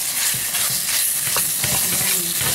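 Beef sears in a hot pan for green curry, a dense steady sizzle with hissing steam and occasional scraping stirs, loud and close, with no talking.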